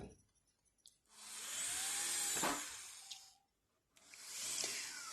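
An electric drill on a fiberglass door runs in two sustained bursts, a high whining buzz that swells and fades with a pause between, close and alone.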